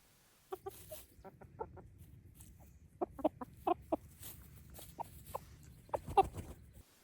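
A rooster crows and clucks at a distance, faint and intermittent, a run of short calls spread through a quiet room-like background.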